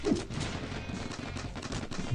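Rapid gunfire keeps hammering at a bison in the video game Zombie Ranch, a sustained fairly quiet rattle of overlapping shots with nobody talking over it.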